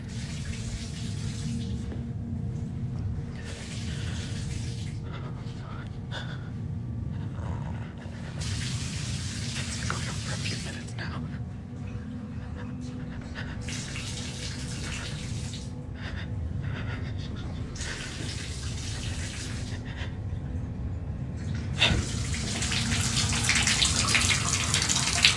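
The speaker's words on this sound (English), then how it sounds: "The water in my tub is turning on and off and on and off." Water gushes from a bathtub tap, repeatedly starting and stopping in uneven bursts, loud and close, with no talking over it.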